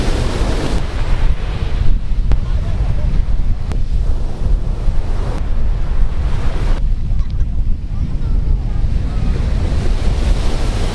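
Loud, continuous roar of ocean surf breaking close by at a beach, heavily buffeted by wind rushing over the microphone.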